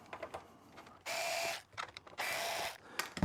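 Screws are being backed out of the top cover of a Commodore SX-64 computer, two bursts of a close, rasping ratchet-screwdriver whir with small clicks and handling noises between them.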